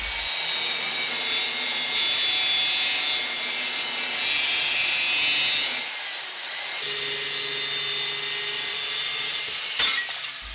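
Angle iron being cut to length on a simple table jig, a steady broadband sawing and rasping sound running throughout, with a brief dip near the middle before the cutting resumes.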